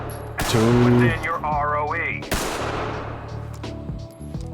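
9mm pistol fire in Ready or Not: two sharp, loud shots about two seconds apart, with a voice talking over the first one and a lingering room tail after each.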